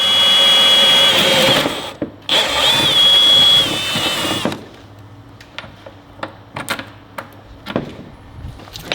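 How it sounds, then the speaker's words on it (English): A power drill bores a couple of holes in a fiberglass bumper of a drift car, whining loudly in two bursts with a short pause between, then stopping and leaving scattered knocks and handling noises. "just drilling a couple holes in some fiberglass"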